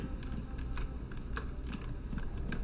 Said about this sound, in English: I am playing this with the keyboard, just for the record.